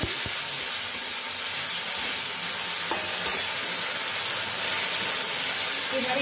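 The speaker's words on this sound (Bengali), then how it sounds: "টমেটোটা আমি একটু ভেজে নিলাম এবারে এক চামচ মতো আদা বাটা দিলাম দিয়ে আবার একটু নাড়িয়ে নিচ্ছি" Tomato fried with a spoonful of ginger paste, stirred in a pan: a steady close sizzle and hiss runs throughout, with scraping stir strokes and a few sharp clicks on top.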